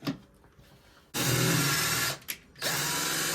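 A power drill bores through a plywood cigar box guitar board clamped to a bench, whining loudly in two runs split by a short pause, after a quieter start.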